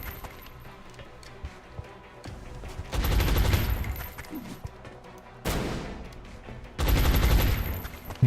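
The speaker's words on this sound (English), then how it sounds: "Let's throw the flashbang." In the XCOM video game, bursts of combat noise follow a thrown flashbang grenade: three loud broadband blasts and crackles, each lasting about a second or more, separated by quieter stretches with faint clicks.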